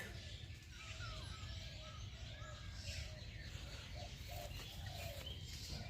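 Pigeons coo in a pigeon house, soft repeated calls under a steady low background hum, faint and somewhat distant, with a person speaking quietly nearby.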